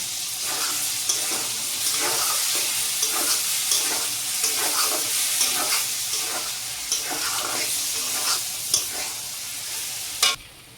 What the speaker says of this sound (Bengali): মশলাটা দিয়ে এখন কষিয়ে নেব।